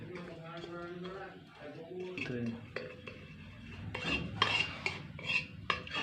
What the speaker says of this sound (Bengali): চিনিটাকে খুব সুন্দর করে একটু ক্যারামেল করে নেব।